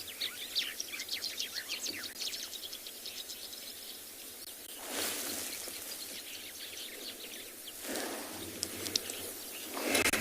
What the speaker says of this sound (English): Beautiful sounds.